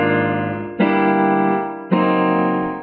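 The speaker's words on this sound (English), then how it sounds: "And so if I add chords to that, I get something like this." Sustained harmonic chords played over a descending bass line, with two fresh attacks restriking the harmony at steady intervals, loud and close with no talking.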